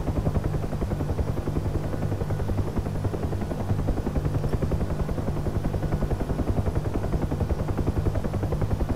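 A Bell UH-1 Huey helicopter in the DCS flight simulator flies with a steady, fast rotor thump and a constant engine whine, loud and unbroken throughout with no talk.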